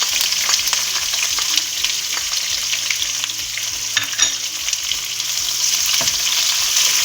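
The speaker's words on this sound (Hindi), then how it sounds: "ये तकरीबन एक बड़ी प्याज है जिसको हमने इस तरह बारीक काट लिया है। इसको भी हम इसमें ऑयल में डाल देंगे।" Finely chopped onion sizzling in hot oil in a pan, with a loud, steady crackling fry and occasional stirring clinks close by, continuous with no talk.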